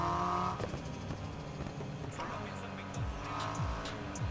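Car drifting in the video game Need for Speed Heat, with a continuous engine drone and squealing tyre sweeps, while someone talks over the game sound.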